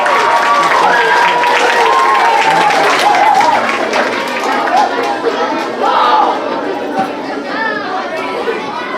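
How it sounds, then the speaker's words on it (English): An audience at an elementary school awards ceremony for third grade nominees claps and cheers over steady crowd chatter, with voices and whoops mixed throughout. "Let's give them another round of applause as they exit the stage."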